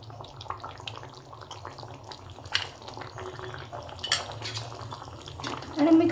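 A spoon scrapes and clinks in a pot as a paste of sesame, poppy seed and coconut is stirred into soft cooked red pumpkin for bakar bhaji; the stirring is quiet and intermittent against faint background noise.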